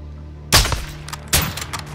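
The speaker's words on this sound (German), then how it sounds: "Saubere Schüsse." Two sharp, loud gunshots about a second apart in Call of Duty: Modern Warfare 2, each with a short echoing tail, sounding like game-style suppressed fire.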